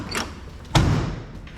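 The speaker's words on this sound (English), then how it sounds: "door shuts" The door of a custom Chevy C10 truck with a supercharged LS swings shut with one solid, close thud, preceded by a lighter click.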